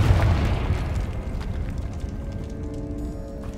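Confringo fire spell detonating in the Hogwarts Legacy video game, a loud booming blast with a rumbling tail that lingers for several seconds, with no speech over it.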